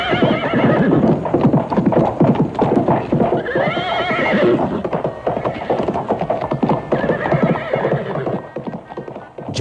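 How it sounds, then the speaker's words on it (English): Horses pull a chariot through a forest, their hooves clip-clopping in a busy, continuous rhythm with repeated loud neighs and whinnies over the top, close and full throughout. "Krishna and Arjun went out for a ride in the forest on Arjun's chariot."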